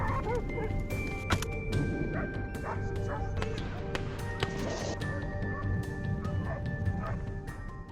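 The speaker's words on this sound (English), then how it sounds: "broken only by the fierce barking of dogs in the distance" Dogs barking fiercely in the distance on a mountain slope during a wild boar hunt, a steady chorus of yaps and whimpers that stays faint under a constant outdoor hiss.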